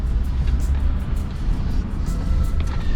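A car climbs a hillside street in Pismo Heights, Pismo Beach, California, heard from inside as a steady, loud low engine and road rumble that never lets up.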